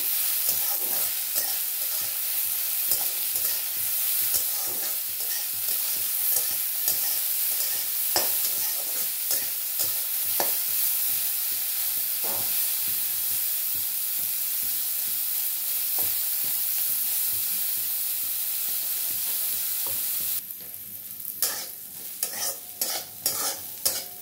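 Greens and potato fry in a pan with a continuous soft sizzle, broken by frequent spatula scrapes and knocks as the mixture is stirred, close and alone without talk.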